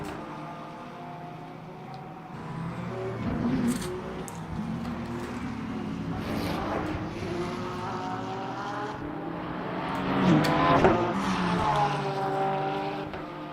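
Race car engines in Le Mans Ultimate racing at Imola, a steady loud engine drone rising and falling with gear changes, plus a brief surge near the end.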